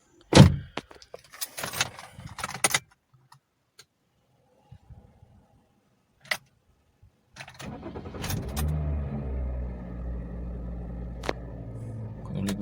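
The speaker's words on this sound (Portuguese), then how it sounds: "Então deixa eu fechar a porta aqui." A Toyota Corolla (2003–2008) car door swings shut with a single sharp thud near the start, after some jangling of keys, followed by a quiet pause and then the engine idling steadily at close range.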